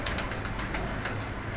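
Teddy pigeons coo close by in a loft, a low, continuous burbling with a faint flutter partway through and no voices.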